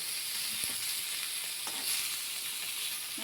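Fish fries in a small amount of oil in a pan, a steady close-up sizzle and crackle with a few soft stirring taps.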